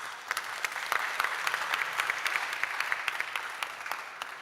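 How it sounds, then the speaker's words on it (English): Applause from a conference audience celebrating teachers at COP28: a dense, steady wash of many hands clapping for about four seconds, moderately loud, with scattered sharper claps standing out and no talking. "you should give yourselves a round of applause"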